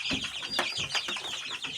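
Small chicks cheep and cluck in quick, overlapping high chirps while feeding on millet, close and fairly quiet, with soft pecking sounds underneath.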